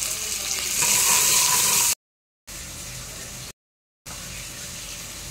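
Onions, green chillies and tomato fry in a pan, giving a steady, loud broadband sizzle that cuts out twice into short silences before resuming at the same level.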